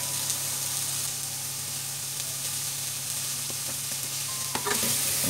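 Red onion and garlic sauté in a pan with a constant, even sizzle and a few light stirring clicks near the end, heard close with no talking.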